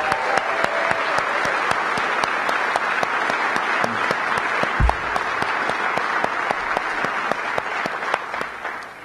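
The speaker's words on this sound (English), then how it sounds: "I want to applaud you." An audience at a mayor's farewell address applauds, a steady close wash of clapping with individual sharp claps standing out, continuing evenly and easing off slightly at the very end.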